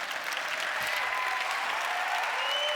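A crowd applauding steadily at a closing plenary session, a dense, even wash of clapping with no voices on top for the whole moment.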